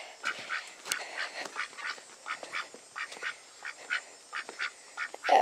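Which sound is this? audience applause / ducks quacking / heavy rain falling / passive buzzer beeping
ducks quacking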